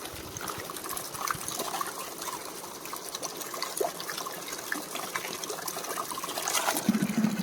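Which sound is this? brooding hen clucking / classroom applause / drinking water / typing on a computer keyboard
drinking water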